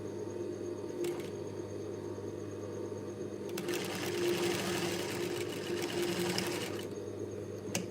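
A sewing machine stitches darts on a top, close by, starting with a short burst and then running for a continuous stretch of a few seconds over a low steady hum.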